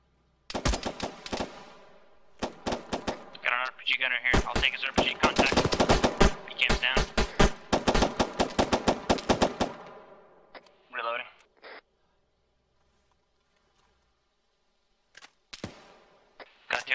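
Gunfire in the ARMA 3 video game: bursts of rapid machine-gun fire and single sharp shots crackle through the first ten seconds, then scattered distant shots, with players talking over the combat.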